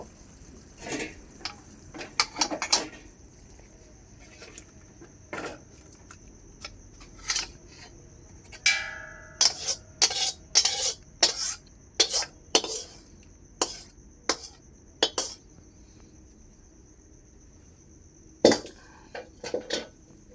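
Pots, pans and utensils clatter and clink in a home kitchen as fish curry is served from the pot, with scattered sharp metallic knocks and scrapes coming in irregular bursts, some close and loud.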